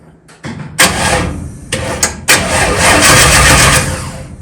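A 383 stroker V8 in a 1964 Chevelle cranks over in several loud, close bursts of starter churning, each stopping and then starting again, with no steady idle yet.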